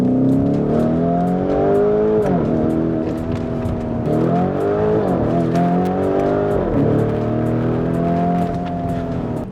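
Modified Mercedes S63 AMG at full throttle in second gear, loud close engine roar sweeping upward through repeated gear-rising pulls with brief dips, continuous and powerful with no talk.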